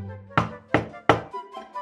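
Five firm knocks on a wooden door, a fairy-tale sound effect of the wolf at grandmother's house, three heavy resonant raps followed by two lighter ones, close and alone.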